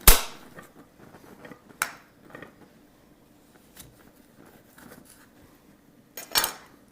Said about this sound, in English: So we need to cut our limes in half.